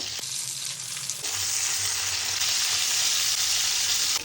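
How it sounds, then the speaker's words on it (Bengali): Fish crackle in a pan of hot oil with a dense, even sizzle. It grows a little louder after the first second and holds steady, near and unbroken, with no voices. "মাছগুলো ভেজে নেওয়া হয়ে গেছে"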